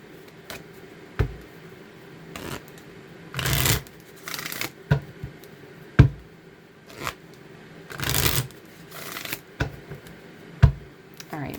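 Tarot cards shuffled by hand in bursts, several short riffling rustles separated by soft taps and pauses, close and clear with occasional quiet talk between.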